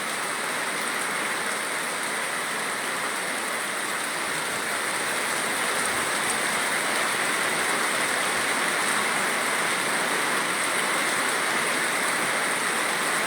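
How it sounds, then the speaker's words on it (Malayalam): Heavy rain pours steadily in Neyyattinkara, Thiruvananthapuram, a dense, even hiss of falling water that holds constant throughout with no voices. "കനത്ത മഴയാണ് നെയ്യാറ്റിങ്കര പ്രദേശത്ത് പെയ്യുന്നത്"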